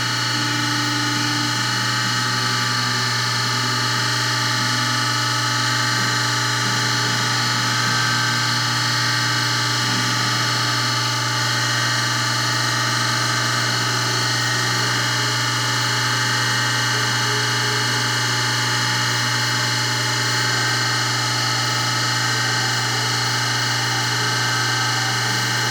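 A Harig 612 surface grinder runs with its wheel lightly touching off a carbide end mill shank, a loud, steady tonal whine and hum holding unbroken throughout with no voices.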